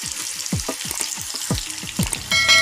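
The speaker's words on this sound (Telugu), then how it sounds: "ఇలా డీప్ ఫ్రై చేసుకుంటే ఆ బంక పోయి మనం తినేటప్పుడు టేస్ట్గా కూడా ఉంటుంది అరటికాయ ఫ్రై।" Raw banana slices deep frying in hot oil for a traditional fry, a loud, busy crackle of bubbling oil with repeated sharp stirring pops that thickens toward the end.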